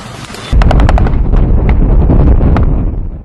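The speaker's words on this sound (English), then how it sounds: "live-fire drills with the 100mm 2A70 gun" A BMP-3's 100mm 2A70 gun fires during a live-fire drill, a loud, heavy boom at close range with a rolling, sustained rumble and wind buffeting afterward.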